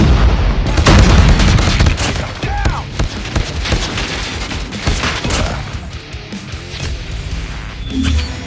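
Heavy gunfire and booming grenade explosions in the Call of Duty Mobile shooter game, loud and dense bursts of shots layered with blasts, short game voice callouts heard amid the battle.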